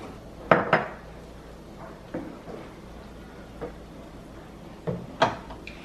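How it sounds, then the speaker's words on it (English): Cooked beans tumble into a metal cooking pot of chile verde. A few sharp clanks and clatters come in quick pairs, then fainter knocks follow. The sounds are close, with no voices. "So now I'm gonna start throwing in my beans."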